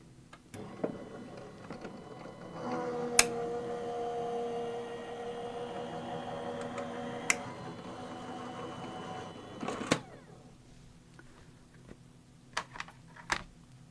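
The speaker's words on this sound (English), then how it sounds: "And run that through my die cutting machine." A paper card runs through a hand-cranked die cutting machine while an ornament circle is cut for a December journal page, giving a steady mechanical rolling whir of several seconds, close and moderately loud, framed by a few sharp clicks and taps.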